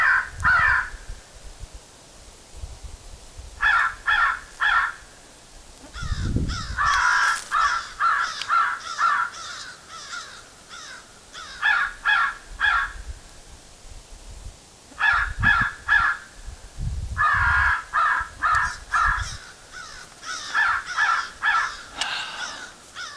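An electronic caller plays crow calls during a crow hunt in Florida, loud harsh caws in repeated bursts of three to five, separated by short pauses, with a few low thumps.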